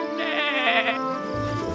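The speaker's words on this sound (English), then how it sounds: "Bleats Lolly the lamb." A lamb in an animated cartoon gives one loud, wavering bleat that fades out after about a second.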